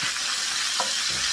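Onions sizzle loudly in a hot pan with a stir audible partway through, a constant close frying hiss.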